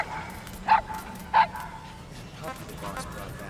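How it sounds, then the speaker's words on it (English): A puppy barks in Metal Gear Solid V: The Phantom Pain, two short yips about a second apart over a quiet game ambience. "Puppy the boss brought back is so cute."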